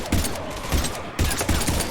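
Rapid bursts of gunfire from the Mass Effect 3 video game battle against Husks, loud volleys in short clusters with brief gaps between them.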